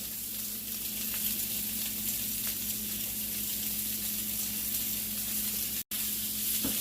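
Salmon and onion sizzle and fry steadily in a pan, a constant close crackling hiss with no talk.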